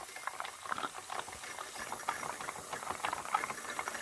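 Water bubbles and spits inside the boiler of a Wilesco D409 model steam showman's engine, a dense crackling patter with a faint hiss, close and steady with no talking.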